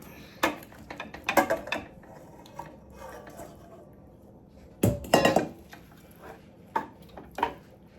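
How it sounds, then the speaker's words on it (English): Catfish pieces going into a cooking pan for Nigerian catfish pepper soup, heard as scattered clatters and clinks of metal and handling, with two louder clustered bursts separated by quieter stretches. "we're just going to add our fish into the pan"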